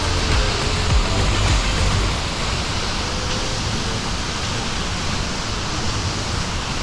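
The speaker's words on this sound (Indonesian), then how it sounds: "air terjun Panimbungan di kaki Gunung Rinjani tuh" Panimbungan waterfall at the foot of Mount Rinjani in Lombok roars in a loud, steady, broadband wash of falling water, close and unbroken throughout, with a brief low rumble early on.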